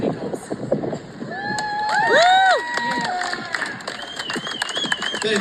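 An audience at a hearing on cannabis as medicine in Lansing, Michigan breaks into applause and cheering, with whoops and high shouts rising over steady clapping for several seconds.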